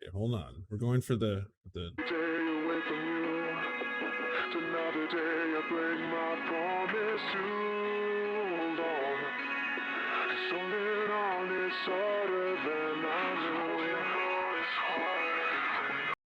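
A slowed, pitch-lowered song with a deep, dragging vocal and processed effects; someone speaks briefly before the music begins.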